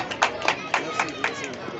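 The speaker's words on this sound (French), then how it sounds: "Des applaudissements et des acclamations pour Salif Diawara" Applause and cheering for Salif Diawara at a school classroom inauguration in Kouthia, heard as a string of rhythmic claps under murmuring crowd noise, moderately near and not very loud.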